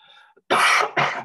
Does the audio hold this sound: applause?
no